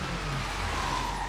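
Car engine from the video game Sleeping Dogs, a steady close drone of a driving vehicle with road noise, running continuously without talk.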